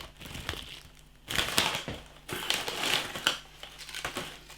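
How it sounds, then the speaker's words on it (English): A bag of Levi Roots Reggae Reggae groove cut crisps being torn open and handled, with bursts of loud crinkling and crackling plastic separated by quieter pauses, close to the microphone. "Now I'm trying his Reggae groove cut crisps."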